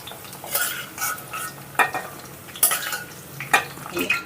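Drumstick pieces fry in hot oil in a pan, a steady sizzle broken by several sharp scrapes and clinks of a stirring utensil against the metal, close and with no talk.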